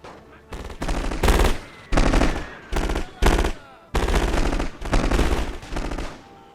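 Soldiers fire machine guns and rifles in The Great War mod of a war video game, playing the Austro-Hungarian side. The fire comes in repeated loud, close bursts of rapid shots separated by short pauses.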